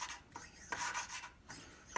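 A valve on a 1920 Hercules 1.5 hp engine is lapped with grinding compound, giving faint, close scraping rasps in short back-and-forth strokes with brief gaps, without talk.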